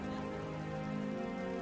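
Rain beginning to fall in a Bengali cartoon scene on a rainy market day, a steady, even patter heard alone for a brief moment.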